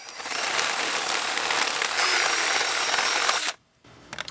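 A drill with a spade bit bores a hole for CPVC pipe, a loud, steady high-pitched whir that holds close for about three and a half seconds, then stops abruptly, followed by faint handling noise.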